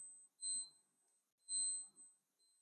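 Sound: wristwatch alarm ringing

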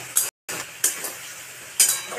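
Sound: stirring salt and turmeric powder in hot oil

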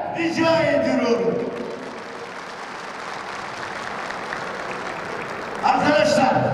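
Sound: audience applause at an award ceremony

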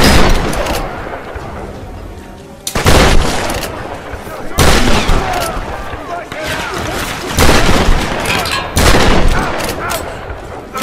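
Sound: gunfire in Tomb Raider 2013 video game

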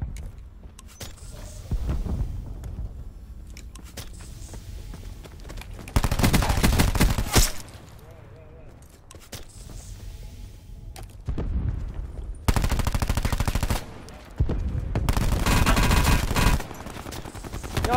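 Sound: gunfire in Call of Duty Blackout video game

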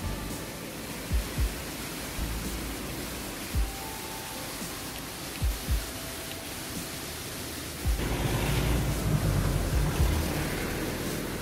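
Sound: small waterfalls at Mouresi, East Pelion

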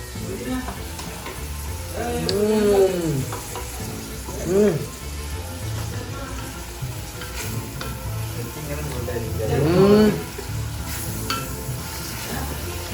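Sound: onions frying and being stirred in a pan

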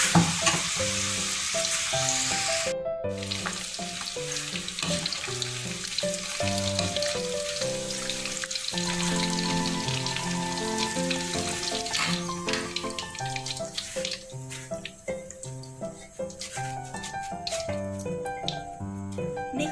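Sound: deep-frying chicken in oil

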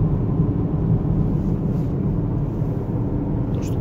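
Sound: unexplained rattling in a Lexus UX while driving

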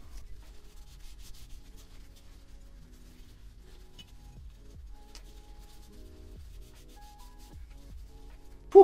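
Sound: rubbing oil and wax off sandblasted metal with microfiber towel

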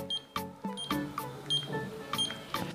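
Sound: entering PIN on Mercado Pago Point Mini card machine

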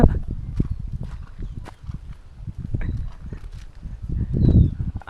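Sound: mare's hooves clip-clopping while being ridden

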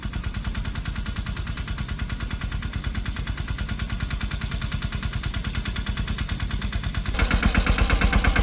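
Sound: tractor engine running

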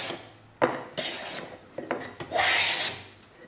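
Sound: hand plane shaving wood

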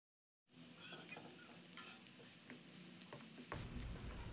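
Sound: chopped onion frying in oil with chilies, stirred

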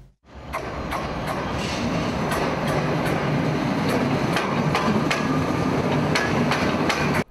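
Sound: train carrying festival spectators

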